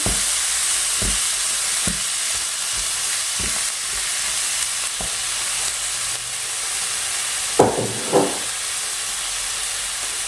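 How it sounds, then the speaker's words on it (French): Tomato and onions frying together in a pan while being stirred, a loud steady hiss of sizzling with occasional knocks and scrapes of the utensil, no voices. "On ajoute donc la tomate aux oignons. On mélange bien."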